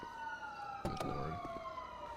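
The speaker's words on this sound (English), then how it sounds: "all you hear is sirens, because all the cops do is drive around" Police sirens wail along a street, a wavering tone carrying through with traffic noise and a few sharp knocks and clatters nearby, moderately distant.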